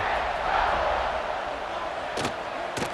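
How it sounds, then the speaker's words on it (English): A stadium crowd in an Ole Miss college football video game roars steadily around a kickoff, a broad sustained wash of cheering with two brief sharper bursts near the end. "this crowd is feeling themselves after that last drive"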